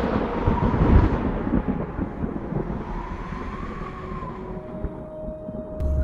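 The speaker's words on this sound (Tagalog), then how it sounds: "Ayan ang ulan ho." Rain falls with thunder, a heavy rumble swelling early and then rolling on beneath a steady wash of rain, fading slightly toward the end with no one speaking.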